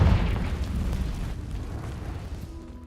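A Confringo blasting spell goes off in a Harry Potter video game, a loud low boom that rumbles and slowly decays over a few seconds with no other sounds.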